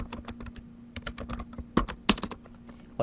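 Bursts of typing on a computer keyboard, close and crisp, with clustered keystrokes separated by short pauses and no talking.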